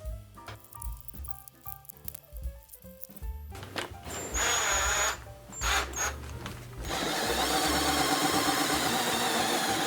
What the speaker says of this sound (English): So I had to drill a little hole